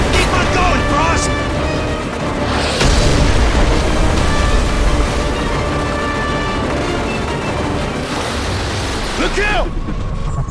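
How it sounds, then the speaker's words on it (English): Incoming missiles explode in a fast-paced video game: dense, continuous booms and blasts at full loudness throughout, with game voices shouting over the chaos. "Missiles coming in!"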